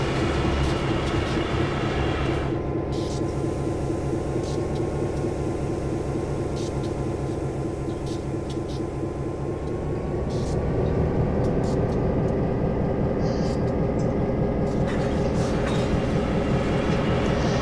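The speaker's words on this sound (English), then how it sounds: "I'm free to just stay here and watch the train go by." A train in Train Sim World 2 rumbles past continuously with a low mechanical drone and rattling, loud and close throughout, with brief clicks on top.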